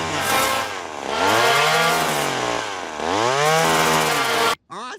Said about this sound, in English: Peter continues to drill large holes in the trunk of the tree in the backyard